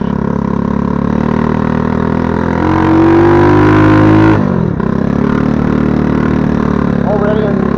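A mini 40 mph ATV quad's engine accelerates up through the gears, loud and close, with a rising whine, a brief dip at a gear change, then steady pulling again, and no speech.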